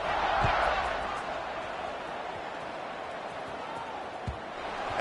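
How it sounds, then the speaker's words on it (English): Stadium crowd at a football game fills the air with a steady roaring buzz, loud and continuous, with a couple of brief thumps standing out. "this crowd is buzzing after that last score"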